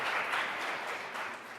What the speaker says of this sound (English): Go ahead and applaud. You should.